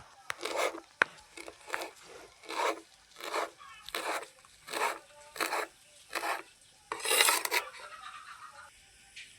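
Knife chopping coriander and mint leaves finely on a board, about a dozen evenly spaced scraping cuts in a steady rhythm, close and fairly quiet, with no talking.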